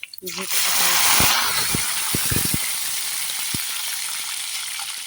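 Onions nearly browned in hot oil sizzle loudly as ginger, garlic, cumin and green chili are added, a steady close frying hiss with occasional spoon clicks and a voice speaking at the start.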